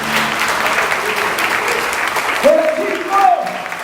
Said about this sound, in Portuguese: Convido você a aplaudir ao Senhor neste momento.